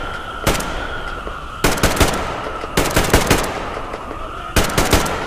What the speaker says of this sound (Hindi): ओ चला दी गोलियां, चला दी